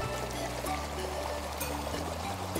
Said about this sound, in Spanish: El agua fluyendo por canales de piedra crea una acústica única.